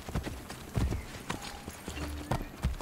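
Horse hooves clip-clopping at a steady trotting rhythm in Assassin's Creed Brotherhood, close and clear, with a brief whinny and faint game ambience.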